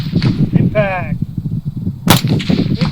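Rifle shots fired at long-range steel targets around 500 yards in a shooting competition, one sharp loud crack standing out among people talking nearby.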